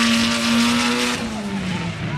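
Drift car sliding through a corner during qualifying at a 2010 Atlanta drift event, a loud sustained engine roar with tire squeal, with a commentator talking over it.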